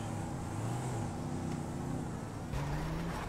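Cars drive through traffic in the GTA 5 video game, a steady engine drone with shifting tones and a brief swell near the end, fairly faint and alone.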